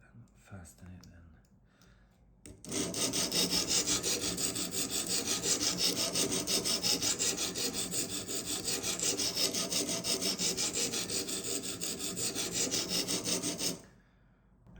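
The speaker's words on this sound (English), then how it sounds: "this will be a lot of sharpening to get this angle set" A knife is sharpened on a premium silver CBN stone, with about eleven seconds of continuous rapid scraping strokes that start abruptly and stop just as suddenly, preceded by faint handling noise.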